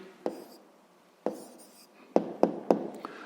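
Pen writing out the answer to a sixth-grade math equation: several short, close scratchy strokes and taps on paper, separated by pauses, with no talking.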